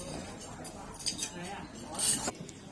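Serving spoon clinking against a plate and dishes while food is dished up, a few short metallic scrapes and taps at close range over a quiet room hum.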